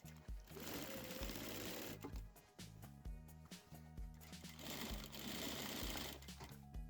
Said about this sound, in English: we're going to stitch 2 parallel lines on the biggest stitch setting with no backstitch at the beginning or the end of that stitch